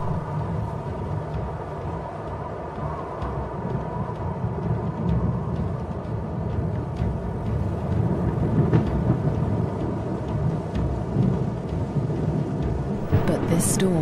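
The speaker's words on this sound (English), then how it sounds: "A storm approaches." Low thunder rumbles through a steady wash of falling rain, with a sharper crack of thunder near the end.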